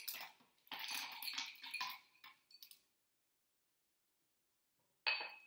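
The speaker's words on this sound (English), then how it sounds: "Put in some ice." Ice goes into a Blackberry Smash cocktail in a glass, making a burst of clinking and rattling cubes for a couple of seconds, then silence, then another short clatter, close and bright.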